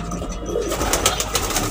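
Breeder pigeons kept on a rooftop loft in Sialkot coo softly and repeatedly over a steady low background hum, the calls close and continuous.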